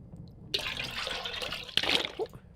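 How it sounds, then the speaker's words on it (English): Water being collected from a toilet in the video game The Long Dark, heard as a burst of splashing, trickling liquid that runs for about two seconds after a quiet start, with a brief louder surge near the end. "we'll take more water from the toilet"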